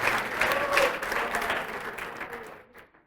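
Audience applause fills a church program, a dense steady clapping that carries on for a few seconds before thinning out toward the end.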